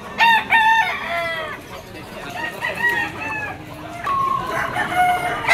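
Gold banderado yellow-legged rooster, one year old, crowing loud and close at a market pet stall in Malabon, with drawn-out harmonic calls and clucking from other fowl nearby.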